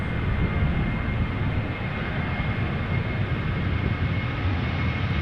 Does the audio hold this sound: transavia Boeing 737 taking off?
yes